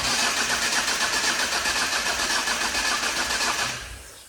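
A Ford Focus engine cranks without catching, the starter churning in a fast, even rhythm for several seconds, loud and close, before it cuts out.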